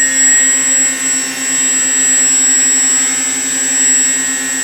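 Twin electric motors on a Dash 8 model aircraft whine steadily with a bright high tone, their loudness surging and dipping slightly as the throttle is worked.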